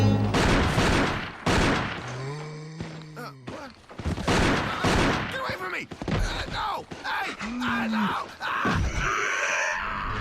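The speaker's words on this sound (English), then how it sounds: "Listen to how many shots are fired." Gunshots from Kenneth's tape in the 1996 video game Resident Evil, several sharp shots mixed with groans and screams, interspersed with a spoken voice throughout.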